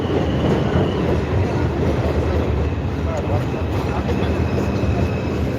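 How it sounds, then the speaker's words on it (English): A Manhattan-bound 2 train on the New York subway rumbles along steadily, loud and close, with a dense, continuous roar of wheels on track and faint voices underneath. "This is a Manhattan-bound 2 train."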